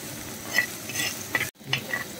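Tomatoes being mashed and stirred in a frying pan for a kera tuna fish curry, with soft scraping and faint sizzle, brief utensil taps against the pan, and a short gap of quiet before the stirring resumes.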